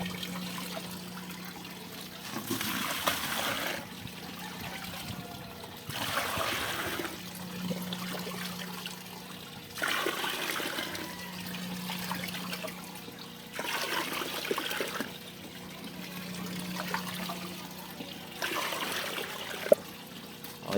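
A dipper scoops water and pours it into a bucket while a new aquarium tank is set up. About five soft splashing pours come in a steady rhythm, fairly faint over room hum.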